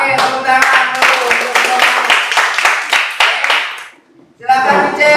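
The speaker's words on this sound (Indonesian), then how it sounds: "Oke, tepuk tangan dulu." A school class claps hands together in quick rhythmic bursts alongside chanting voices, then pauses briefly before another round of clapping starts.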